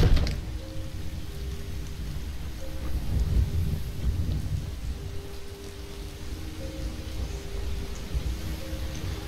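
A thunderstorm in the Skyrim video game gives steady rain and low rumbling thunder, with a soft tonal drone underneath and no speech.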